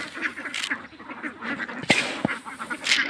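A flock of domestic ducks quacking loudly and close by on open ground, overlapping irregular calls with a few louder honking quacks standing out.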